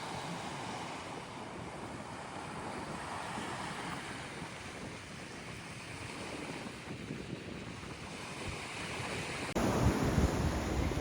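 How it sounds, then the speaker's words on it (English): Waves wash onto a beach in Crete in a steady, fairly soft surf roar, mixed with wind buffeting the microphone, which grows louder in the final seconds; no voices. "here's the beach"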